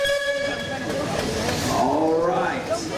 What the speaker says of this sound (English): gentlemen, if you'll signify your readiness with a tune of your whistle.